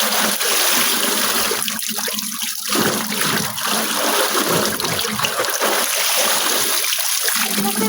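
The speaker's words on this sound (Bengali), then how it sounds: "এই যে বাঁশের উপর দিলে এই যে জল ভরে যাচ্ছে," Water drips and trickles steadily from freshly washed clothes hung over a bamboo pole outdoors, a continuous close patter of falling drops and small splashes without a break.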